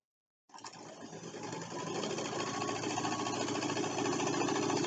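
A sewing machine stitches the seams of a fabric pincushion, starting abruptly and settling into a steady, continuous mechanical whir that runs close and alone.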